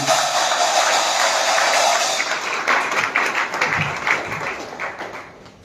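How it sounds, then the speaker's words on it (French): An audience claps in response to a request, dense steady applause that thins into scattered individual claps after a couple of seconds. "Est-ce que quelqu'un peut applaudir?"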